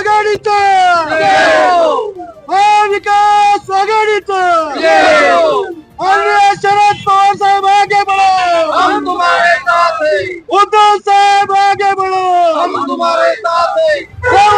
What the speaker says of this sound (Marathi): वाटार स्टेशन येथे महाविकास आघाडीचे कार्यकर्ते व नागरिक जल्लोष करताना दिसून येत आहेत